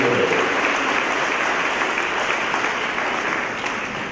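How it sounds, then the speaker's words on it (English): A crowd at an outdoor Memorial Day ceremony claps loudly in sustained applause that stays dense and then fades slightly toward the end. "How about a big round of applause for Dan?"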